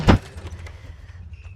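A door is shut with a single sharp thud at the start, close and loud, followed by faint rattles and low rumbling background.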